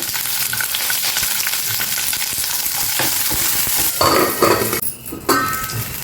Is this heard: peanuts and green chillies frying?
yes